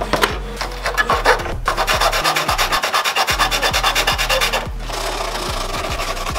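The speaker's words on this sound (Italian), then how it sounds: "dovrò limare questa parte qua che eccede" Broken motorcycle fairing being filed down at an excess edge, loud rhythmic rasping strokes in fast repeated bursts, close up and continuous with brief pauses, no voices.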